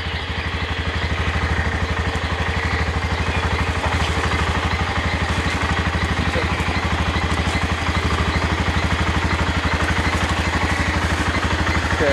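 A motorcycle engine runs steadily while the bike is stuck on a jungle trail in Guatemala, giving a loud, close, rapid chugging idle with mechanical clatter throughout.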